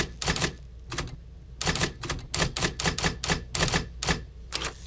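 An iOS typewriter app produces simulated typewriter keystrokes: sharp, close clacks arriving in rapid, uneven bursts with short pauses between them, and no voices.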